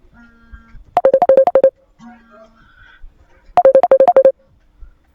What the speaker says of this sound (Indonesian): Maaf, ada yang telepon.